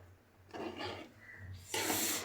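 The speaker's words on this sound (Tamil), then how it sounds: "கிண்டி விடுறாங்க." A spoon scrapes and rubs through sardine fish curry in a home cooking pot, giving a few close, rasping strokes with brief pauses between them and no talk.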